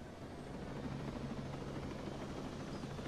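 A large helicopter in the video game Ghost Recon Breakpoint gives off a steady, low rotor thrum with a continuous engine drone, fairly faint and unchanging for the whole stretch.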